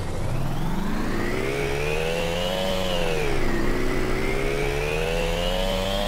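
An engine in a driving simulator video game revs as the car pulls away at a green light, a buzzing whine climbing, dipping briefly and climbing again through a gear change, steady and close for several seconds without talk.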